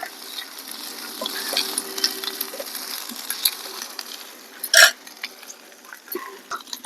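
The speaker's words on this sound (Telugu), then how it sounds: "అల్లం వెల్లుల్లి పేస్ట్ వేగింది కదా" Ginger-garlic paste fries with onions in a pan for a potato, capsicum and pea curry, giving a soft, steady sizzle with light stirring and one sharp scrape partway through.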